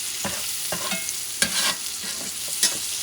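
Shallots fry in a hot pan while a utensil stirs them, a constant close sizzle broken by several sharp scraping clacks of the spoon against the pan, with nobody speaking.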